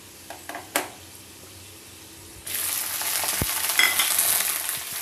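Capsicum is added to a pan of reddish-browned garlic for chili chicken. After a few quiet scrapes, a loud, close sizzle bursts in at once and keeps crackling steadily under stirring.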